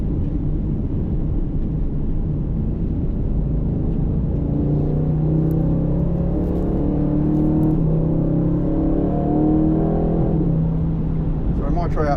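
A 2025 Aston Martin Vantage on a race track under light throttle, giving a steady, droning engine and road roar with gently rising and falling pitch throughout, heard from inside the car.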